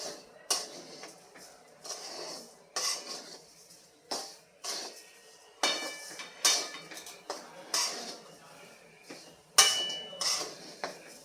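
A spoon or spatula knocks and scrapes rhythmically against a pan while sugar is stirred into a grated fresh coconut mixture for soft coconut vadi, a series of distinct clinks with short pauses between, close and moderately quiet.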